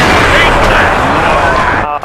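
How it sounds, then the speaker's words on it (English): Loud, dense rumbling blasts of explosions from Gears of War 2 Horde mode fill the sound, continuous and close, with a sudden cut-off at the end. "There's a lot of explosions near me."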